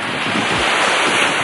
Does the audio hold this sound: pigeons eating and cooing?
no